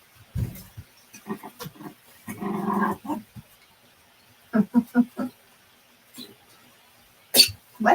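A puppy sneezing several times in short bursts, near and fairly faint, with soft snorts and a quick sharp sneeze near the end.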